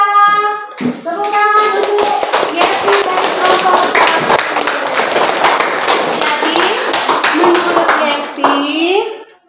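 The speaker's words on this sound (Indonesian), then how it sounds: "Tepuk tangan untuk Yepi dari kelompok" Classroom applause breaks out after a brief spoken introduction, a dense, loud run of many hands clapping for several seconds before trailing off as a voice resumes.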